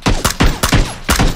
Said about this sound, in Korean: 지금 총소리 나는데?